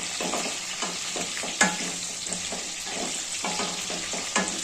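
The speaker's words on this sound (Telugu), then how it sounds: "మళ్ళీ ఒక్కసారి కలుపుకుందామండి" Eggplant curry sizzles steadily in a pan over a medium flame while a spoon scrapes and stirs it in repeated strokes, with one louder clack partway through.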